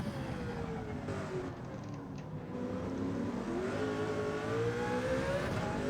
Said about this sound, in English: I can hear his engine, it's stunning